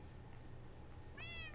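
A single short cat meow from Minecraft near the end, over a quiet game background.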